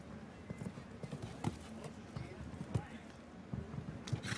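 Horse hooves thud in a rhythmic gallop at the Aachen 2015 individual show jumping final, a steady clip-clop under continuous French commentary.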